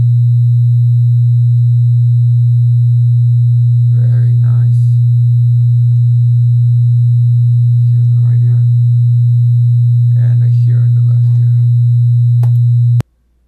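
A pure binaural sine tone generated in Audacity hums continuously at a low pitch, loud and unwavering, with a voice speaking faintly in short bursts underneath before the tone cuts off abruptly near the end.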